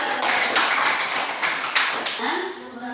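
Classroom clapping after children recite the five principles of Pancasila in an Indonesian primary lesson, a dense patter of many small hands lasting about two seconds before fading, with a voice rising near the end.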